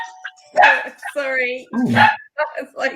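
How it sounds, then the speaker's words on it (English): Indoors during an interview, a dog lets out several sharp barks and yips close by in quick bursts, overlapping a person who speaks briefly. "that's the dog"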